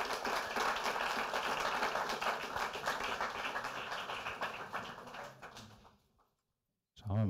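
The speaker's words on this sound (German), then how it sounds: "ein Applaus" Dense applause from an audience at a Wikimedia fellowship programme event in a hall, sustained and fairly loud for about six seconds, then fading out to silence before a brief noise returns at the end.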